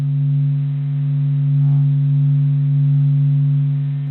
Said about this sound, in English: The low rumbling is not only an interpretation of the sun's magnetic field,